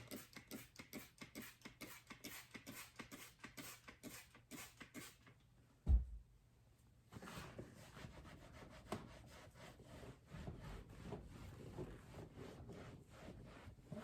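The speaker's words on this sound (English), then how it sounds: "So it's like basically just on the rag, and then as you wipe, most of it should come off." A rag wipes across a leather car seat in quick, rhythmic rubbing strokes, close and faint, broken by a brief thump before slower, softer wiping continues.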